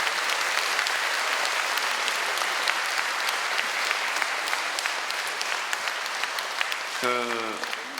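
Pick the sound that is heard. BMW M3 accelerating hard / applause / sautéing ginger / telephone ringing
applause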